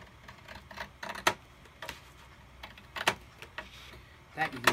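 Scissors cut A2 card stock for a card base in a few short, crisp snips, spaced out and close by, with quiet rustling between them.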